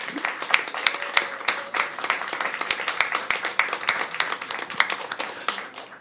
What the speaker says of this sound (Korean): 부부 뜨겁게 큰 박수로 환영하겠습니다